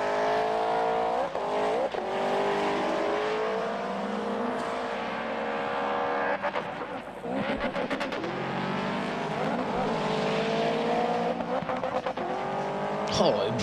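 A drift car at a French drifting championship round in Mérignac screams through sustained high revs with tyre squeal and shifting engine pitch, loud and continuous, while a commentator talks throughout.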